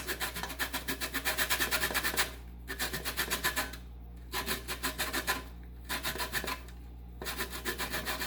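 Orange zest rasped on a grater for holiday cookies: fast, even scraping strokes in close, rhythmic runs of a couple of seconds each, broken by short pauses, over a steady low hum.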